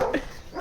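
A dog barks at an outdoor function, a couple of short, fairly close yelps with a brief gap between them.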